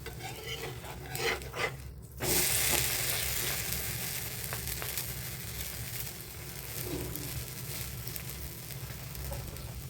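Rava uthappam, a semolina batter pancake, sizzles steadily on a hot pan after being flipped, a broad frying hiss with a few soft clatters early on, close and continuous for the full length.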